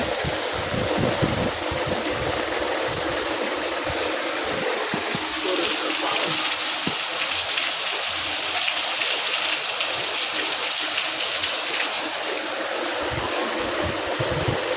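Steady, dense hiss of rain falling heavily and close, continuous for the whole stretch, with occasional low thumps and faint murmuring voices underneath.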